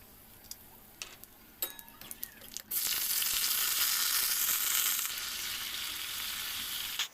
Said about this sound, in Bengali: আলুগুলো লবণ হলুদ দিয়ে আমি ভালো করে ভেজে নিচ্ছি